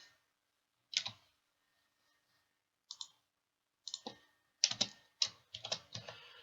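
Computer keyboard keys clicking in short, sparse bursts of typing with pauses between, close and quiet in an otherwise silent room.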